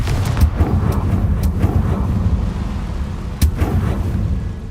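Repeated sharp cracks of a Confringo fire spell in Hogwarts Legacy ring out over a constant deep rumble. One especially loud blast lands near the end, and no talking can be heard.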